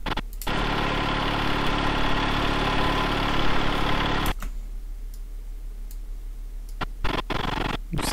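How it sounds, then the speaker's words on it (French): A loud, steady tractor engine idles with a constant rumble for several seconds, then cuts off, leaving a quieter background with a few faint clicks. "c'est un gros bruit de tracteur qui éclate les oreilles"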